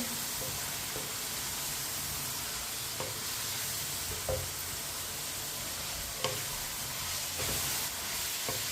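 Chopped cauliflower fries in a pan with a steady, close sizzling hiss, broken by a few soft scrapes and knocks of stirring, with no talking.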